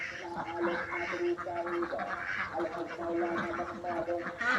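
Laying ducks kept in confinement quack repeatedly in a steady, overlapping chorus, nearby and moderately loud, with a constant background hum.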